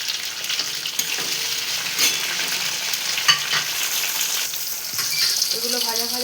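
Capsicum and chopped tomato frying in a pan, a steady close sizzle with spatula stirring and scraping strokes, occasional clinks, and a brief voice near the end.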